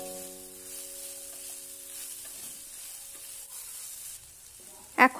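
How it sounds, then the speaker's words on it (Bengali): Taro stolons frying over a high flame make a soft steady hiss under a faint tonal hum, ending with a couple of sharp clattering knocks from a utensil on the pan. "হাই ফ্লেমে 5 মিনিট ভেজে নেব"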